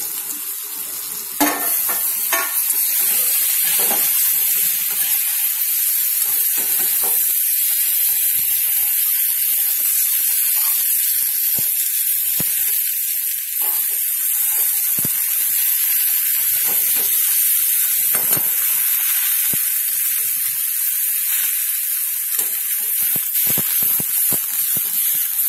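Eggplant pieces sizzle in a pan over a low gas flame while cooking salted eggplant, giving a steady, close, bright frying hiss. Faint scrapes and clinks of stirring come and go, and no one speaks.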